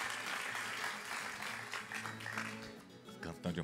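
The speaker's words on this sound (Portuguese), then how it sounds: "Aplaudir, Brasil!" Audience applause for a singing duo of sisters on a Brazilian TV show, a steady broadband wash of clapping that carries through the whole stretch with a few sharper claps near the end.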